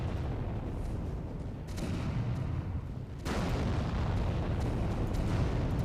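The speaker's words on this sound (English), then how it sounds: "there's so much artillery happening here that the anti-tank guy was actually suppressed" Artillery fire and explosions rumble in a continuous, dense barrage during a 5v5 video game battle on a Kiev map, loud and sustained with no distinct pauses.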